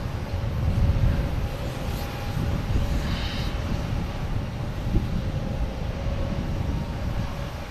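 Cape Air plane landing on runway 22 left at Boston Logan Airport, heard as a broad, moderately distant engine roar mixed with wind noise that swells slightly early on and holds steady.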